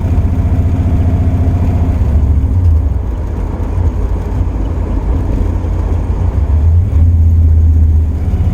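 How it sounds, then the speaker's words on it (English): A 1984 Camaro Z28 with a 383 stroker V8 and 3-inch exhaust rumbles loudly and close, a deep steady throb with slight swells as the revs rise and fall, no voices over it. "It sounds really good. That 3-inch exhaust that's on here is like, just sounds nice."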